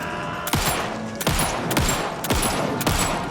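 Four sharp gunshots fired at steady intervals in the video game Alan Wake II, each a loud close crack with a brief ringing tail, heard alone with no talk.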